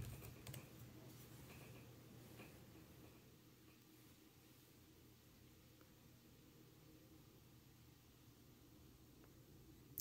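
Quiet, rapid key clicks from typing on the small keyboard of a GPD Pocket 3 mini laptop during a typing test, faint and continuous with no talk.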